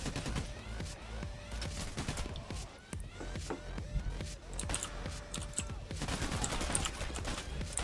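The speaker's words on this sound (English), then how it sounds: "Where am I getting shot at from?" Rapid gunfire rattles through a heist shootout in Payday: The Heist, dense overlapping shots and bursts at moderate distance continuing steadily with sharp cracks scattered throughout.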